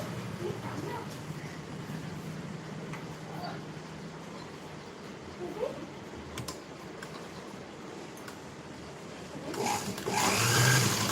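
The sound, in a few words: sewing machine stitching blouse tucks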